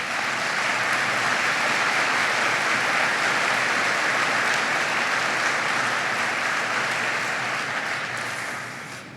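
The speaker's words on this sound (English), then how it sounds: "Would you give them a round of applause" Sustained applause from a large crowd at a UMBC university commencement ceremony, steady and dense for several seconds before tapering off slightly at the end.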